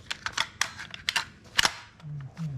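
The charging handle on an INF MBR 308SR full-metal electric airsoft rifle is pulled during maintenance, producing a close series of sharp metallic clicks and clacks in quick succession, followed by a faint low hum.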